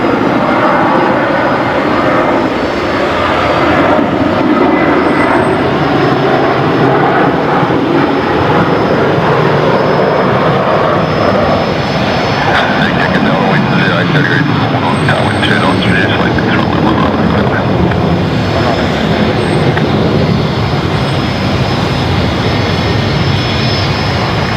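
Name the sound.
Qantas 633 airliner departing Brisbane for Melbourne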